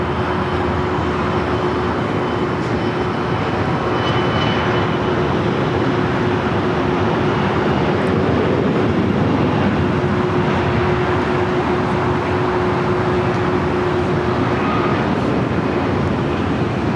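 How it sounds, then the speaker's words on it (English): A CRJ regional jet rolling for takeoff on runway 7 left at LAX, a steady loud roar with a sustained tone that holds throughout and no speech. "a CRJ rolling it down"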